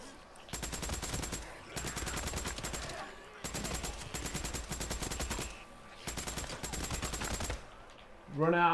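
Bursts of rapid automatic gunfire fired at a zombie horde in the video game Days Gone, three long sustained volleys separated by short pauses, with a brief voice at the very end.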